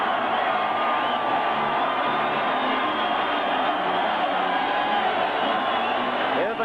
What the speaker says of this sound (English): Hear the crowd screaming